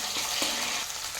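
Curry leaves dropped into hot oil already holding mustard seeds, cumin, garlic and onion crackle and sizzle steadily, a close, busy fry with a few sharper pops.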